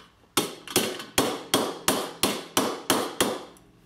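The back of an adjustable wrench taps a tin toy nine times at an even pace, each a sharp, close metallic knock with a short ring.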